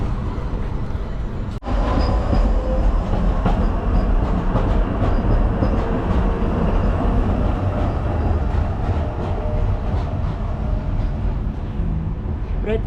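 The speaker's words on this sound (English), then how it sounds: "There's a tram right there." A tram rolls along its rails on a European city street with a loud, continuous rumble and rattling wheel noise close by, holding steady for the whole stretch.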